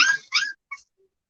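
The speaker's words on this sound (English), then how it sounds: "And here's another male pup." A young male puppy at a kennel gives two short high whimpering cries close up, then a faint brief squeak, and falls quiet.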